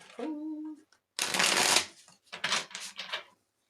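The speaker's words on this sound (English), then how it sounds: "Okay, one more shuffle." A tarot deck is shuffled in a quick riffling burst, followed by a few shorter rustling shuffles, after a brief spoken line at the start.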